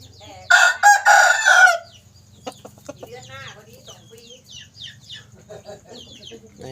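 A rooster crows once, loud and close, followed by softer clucking and scattered bird sounds in the background.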